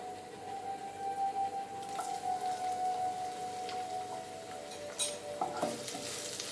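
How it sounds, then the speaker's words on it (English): Cumin and garlic sautéing in a small amount of hot oil give a steady, close sizzle and crackle, with a few scraping stirs and light clatters near the end and no one talking. "Saute this nicely."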